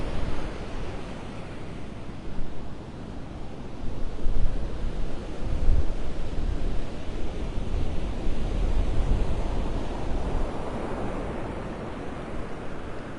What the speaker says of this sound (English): Waves are strong.